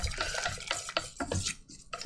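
A spoon stirs a lumpy, thickened mixture in a pot, giving soft, irregular scraping and squelching strokes that sound close but quiet.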